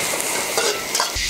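Pickled greens stir-fried with ginger and scallion in a wok, giving a steady close sizzle with light stirring scrapes and a few clinks of utensil on metal throughout.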